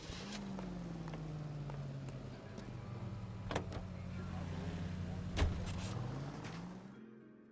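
Car engine in L.A. Noire humming steadily at low pitch as the vehicle drives. A few sharp clicks and knocks cut through, and the engine note rises slightly toward the end before cutting off.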